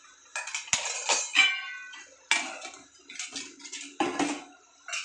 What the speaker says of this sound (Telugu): ఇప్పుడు ఇవన్నీ ఒకసారి తిప్పుకుందాము.